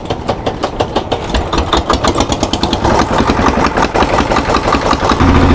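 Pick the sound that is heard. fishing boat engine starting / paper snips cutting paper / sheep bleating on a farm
fishing boat engine starting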